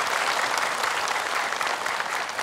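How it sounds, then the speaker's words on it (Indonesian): Dense, steady applause fills a studio where the audience of a televised Islamic religious program claps together, loud and continuous with no pauses or speech over it. "Boleh tepuk tangan ibu."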